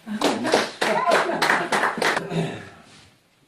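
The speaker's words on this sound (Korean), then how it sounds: "박수 한번 보냅시다" An audience at a poetry lecture claps in a quick, rhythmic series of sharp bursts, with voices mixed in among the hands, before the sound tapers off into quiet near the end.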